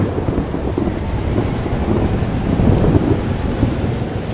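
Rolling thunderstorm from Life is Strange: Double Exposure, a steady loud rumble of thunder over continuous rain noise throughout, with no talking.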